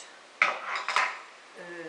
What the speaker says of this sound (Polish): wyciągamy nasz szynkowal z garnka